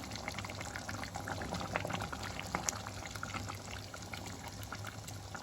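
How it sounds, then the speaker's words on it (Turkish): Chickpea and meat stew simmering in a pot on a stovetop, giving a steady bubbling burble with soft pops throughout, close and moderately quiet, with no one talking. "Çok çabuk pişiyor gördüğünüz gibi."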